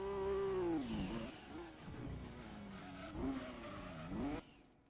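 Race car in Gran Turismo 2 roaring under hard acceleration, its engine note climbing through repeated gear changes with short dips between shifts, loud and close, cutting off abruptly near the end.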